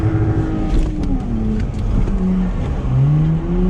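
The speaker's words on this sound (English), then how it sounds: "right now, building up the revs, building, pop the clutch" A 150bhp Lexus revs hard in first gear while drifting at a drift track, its engine note droning loud and steady, with the pitch climbing and dropping throughout.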